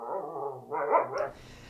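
A dog barks a few times close by in a short burst, with a growly, whimpering edge between barks, and no talk.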